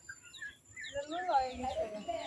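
Ducklings give high, thin peeping calls in short repeated bursts, fairly faint, over a low background that may hold some voices.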